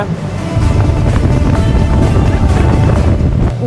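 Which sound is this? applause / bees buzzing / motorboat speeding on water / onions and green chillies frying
motorboat speeding on water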